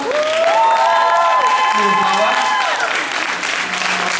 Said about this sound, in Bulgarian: Аплодисменти за Мирослава Пейчева